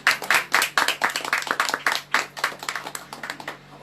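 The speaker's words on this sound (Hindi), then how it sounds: "हमारी क्लैप कैप्टन ने ताली शुरू करी" A church congregation claps together in a run of quick, uneven hand claps that stays close and fairly loud throughout, with no talking over it.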